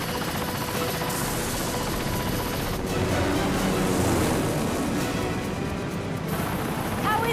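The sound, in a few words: helicopter in Ninja Gaiden II Black video game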